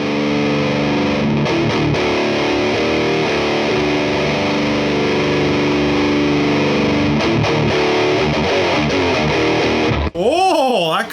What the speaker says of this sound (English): Just overdriving the snot out of that green drive channel.